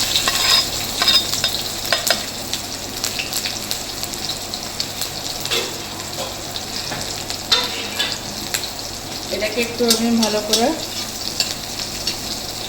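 Chopped green chillies sizzle in hot oil in a pan while jeera rice is being made, a steady frying crackle with occasional stirring scrapes and a brief spoken remark.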